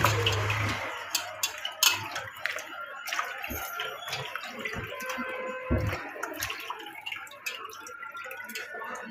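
Fresh crabs being washed under running water: a steady tap stream with splashing, knocks and shell clatter in a basin, fairly close, with only faint voice.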